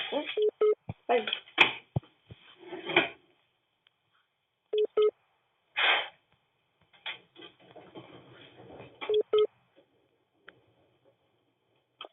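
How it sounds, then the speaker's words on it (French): Telephone keypad dialing tones from a call placed while playing Roblox, a handful of short beeps in quick bursts spread across the clip, mixed with bouts of speech and background game noise. "Ah, Célian, je l'appelle"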